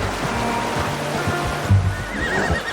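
A horse in the Red Dead Redemption 2 video game whinnies over a rushing wash of flowing water, the neigh rising near the end above the steady outdoor ambience.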